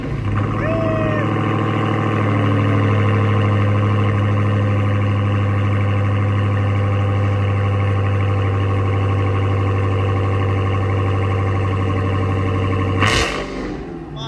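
A Dodge Hellcat with a new exhaust idles with a deep, steady exhaust drone for several seconds, then cuts off abruptly with a short rattle.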